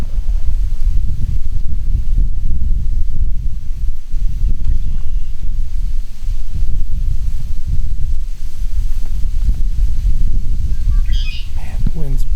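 Strong wind buffets the microphone out on open water while fishing from a kayak, a loud, continuous low rumbling roar with gusty swells and a faint bird call near the end.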